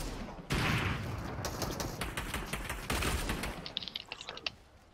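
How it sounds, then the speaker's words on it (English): Gunfire in a video game crackles in quick bursts and rapid rattling volleys, fairly faint, fading into scattered pops. "I just hear shots."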